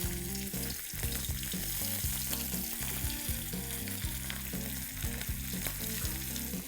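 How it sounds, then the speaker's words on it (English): Rava-coated prawns shallow frying in oil on a tawa, a dense, continuous sizzle with crackle, heard close and steady for several seconds, over a low background hum. "So we're going to simply coat these prawns with rava, suji, and just put it in the oil."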